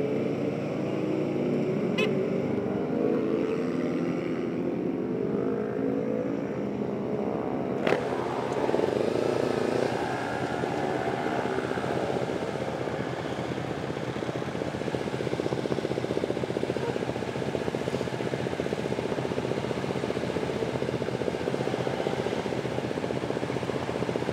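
Motorcycle engine running nearby, a continuous low rumble with steady droning tone and a couple of brief clicks, holding a fairly even level rather than showing distinct rev surges.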